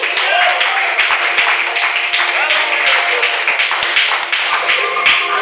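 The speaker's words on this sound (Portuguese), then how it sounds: "Depois as palmas para Jesus." A church congregation claps and applauds for Jesus during a Pentecostal-style sermon. The clapping is dense and continuous, loud and close, and it holds steady across the whole stretch.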